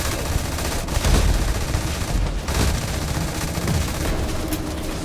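Sustained gunfire in the video game Starfield, a dense, loud, continuous barrage of rapid shots with overlapping blasts and no clear pauses.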